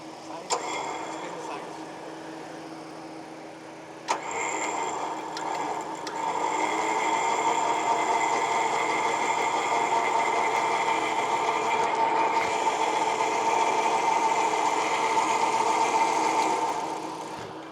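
An off-road vehicle's electric winch spools line back in during a rollover recovery, a steady mechanical whine and hum that starts up around four seconds and swells louder, running continuously to the end with faint voices underneath.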